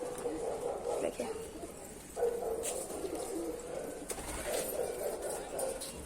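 Pigeons coo in soft, repeated throaty rolls at close range, a few calls overlapping, while someone talks quietly over them in the background.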